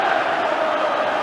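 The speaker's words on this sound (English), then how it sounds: "Absolute bedlam here at Parkhead." A football crowd of around 50,000 at Celtic Park during a Celtic v Rangers Old Firm league match, roaring in a loud, continuous and dense wall of noise for just over a second.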